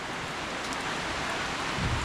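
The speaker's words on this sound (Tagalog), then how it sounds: "Ulan na naman, oh." Steady rain falls on a farm, a dense even hiss of drops filling the whole clip with no pauses, close and moderately loud, without voices.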